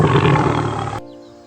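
A tiger's roar, loud and rumbling, lasts around a second before stopping sharply, leaving a soft lingering hum.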